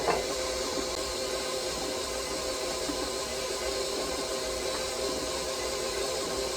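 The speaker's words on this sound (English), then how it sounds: "the dough is pretty much done. It's forming a ball in my mixer." A stand mixer with a paddle attachment works sourdough shortbread dough, giving a steady close motor whir with a faint rhythmic churn and no talking.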